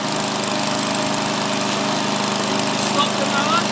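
A small PM99CC petrol lawn mower engine runs at a steady, loud, buzzing idle close by, with a faint voice underneath.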